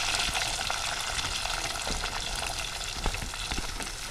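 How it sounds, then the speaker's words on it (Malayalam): Shallots, green chili, garlic and ginger sizzle steadily in a hot pan for a fish head curry, a dense continuous frying hiss broken by a few soft scrapes of stirring, close and fairly loud with no talking. "ഈ എല്ലാ സാധനങ്ങളും നമുക്ക് നന്നായിട്ട് വഴറ്റിയെടുക്കാം"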